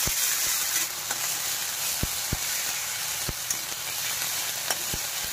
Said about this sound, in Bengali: এবার ভালো করে নেড়ে চেড়ে এটাকে ভেজে নেব।